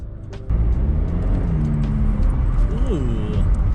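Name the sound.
car accelerating with turbo after K&N air filter install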